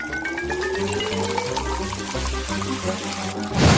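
Sprite soda being poured into a glass during a layered food challenge, a steady liquid pour running the whole time over light background music, with a brief louder splash at the very end.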